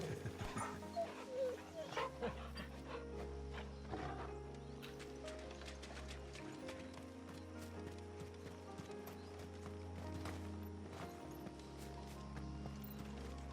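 In the video game Final Fantasy XVI, a dog barks and yelps amid hoof clip-clops and a horse's whinny, set over a low ambient drone and scattered game sounds, with some talking.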